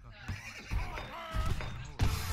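A horse whinnies in Age of Empires 3, a short, fairly quiet neigh with a few brief game effects around it.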